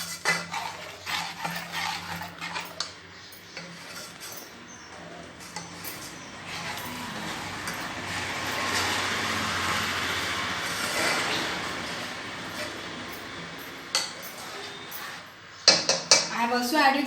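Uttapam batter stirred in a bowl in a home kitchen, giving a run of scraping, clinking spoon-on-bowl sounds that build in the middle, with a person talking now and then.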